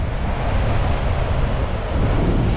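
Gusting wind sweeps across a beach at evening with the tide up, a steady loud broadband rush of air and surf noise buffeting the microphone, with no voices.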